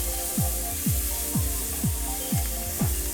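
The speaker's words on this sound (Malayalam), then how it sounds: "പ്രോൺസ് ഒന്ന് ഈ എണ്ണയിൽ കിടന്നൊന്ന് ചെറുതായിട്ടൊന്ന് വഴന്ന് വരണം" Prawns sauté in hot oil for Singapore noodles, giving a steady close sizzle broken by a regular series of short sweeping scrapes about every half second, with no talking.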